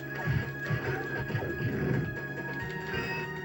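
A horse whinnies over steady clip-clopping hooves in the original Xbox game Knights of the Round, with a continuous electronic background hum; the neigh rises and falls in bursts.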